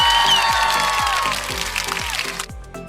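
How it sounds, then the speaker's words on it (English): A cheering preset on a 7RYMS 7Caster SE2 sound pad plays a crowd cheering and whooping with clapping, over a steady thumping beat, before the crowd noise cuts off abruptly near the end. "cheering"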